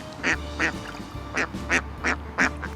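A duck quacks loudly and close by, about seven sharp, rude-sounding quacks in a fairly even rhythm, over a low background hum.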